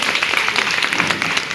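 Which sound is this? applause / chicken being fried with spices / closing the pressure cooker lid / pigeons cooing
applause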